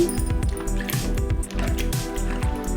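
Ground niger seed paste mixed with water being squeezed by hand through a strainer, making close, wet squelching and rhythmic dripping sounds throughout.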